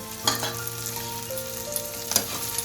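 Chopped onion, green chillies and tomato sizzle steadily in hot oil as they are stirred, with a few louder scrapes of the spatula and no one talking.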